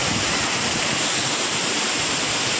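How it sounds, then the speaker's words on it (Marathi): Water pours from a height at Vyaghreshwar waterfall in Manche, Konkan, a loud, unbroken roar that fills the whole short stretch, close and unvarying, with no voices over it. "पाणी पण किती उंचावरनं पडतं बघा."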